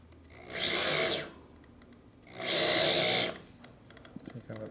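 A reamer bores a hole in the frame of a 1942 Harley-Davidson WLC/WLA 45ci motorcycle, heard as two separate whirring drill bursts of about a second each with quiet gaps and faint talk and clatter afterward.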